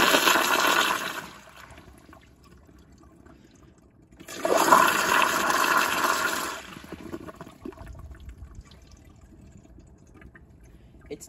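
A Toto CT705 toilet on a piston flushometer flushes at full pressure in two loud rushing bursts, the second longer, each fading into a quiet refill trickle.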